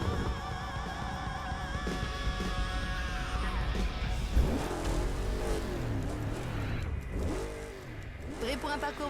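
Car engine racing in Burnout Paradise on PS4, revving and shifting pitch through gear changes with rising and falling whines, loud and continuous alongside game effects.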